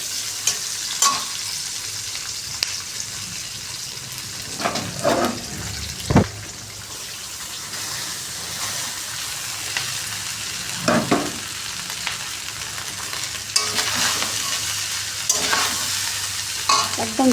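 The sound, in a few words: vegetables, cashews and raisins stir-frying in pan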